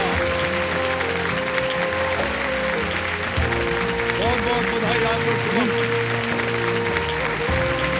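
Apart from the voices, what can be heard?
studio audience standing and applauding on KBC game show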